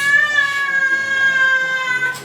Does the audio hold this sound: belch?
no